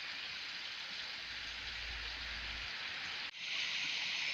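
Steady rain falls during an outdoor walk near rocks and running water, a dense continuous hiss close to the microphone, with a brief dip near the end before it resumes slightly louder.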